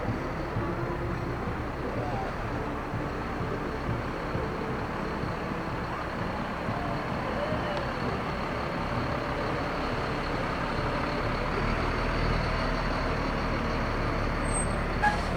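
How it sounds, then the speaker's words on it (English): Fire apparatus rolling by in a small-town Memorial Day parade, a steady close rumble of heavy truck engines with traffic-like hiss; a voice speaks over the passing vehicles. "A lot of fire apparatus coming up the next string."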